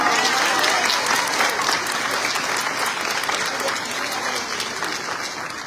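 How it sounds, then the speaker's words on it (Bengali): A theatre audience bursts into sustained applause, dense continuous clapping at steady loudness throughout, with crowd noise and a voice faintly mixed in. "ওনার জন্য একটা হাত তালি।"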